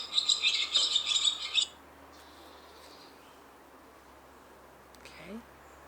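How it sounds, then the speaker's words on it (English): A wild bird sings outdoors in a quick, bright run of chirps over the first second and a half, then gives way to faint background ambience with a few soft later sounds. "I love birdsong"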